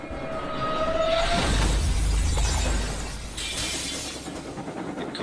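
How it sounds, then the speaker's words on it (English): Glass windows in train coaches shatter from a shockwave, a loud crash and tinkling burst over a deep rumbling roar, with a thin horn-like tone fading at the start and crackling debris afterward. "Caused the glass in the coaches to shatter and rock them side to side."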